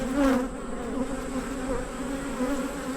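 Honeybees buzz steadily around an open hive during an inspection, a close, continuous drone with a slight swell near the start and no talking.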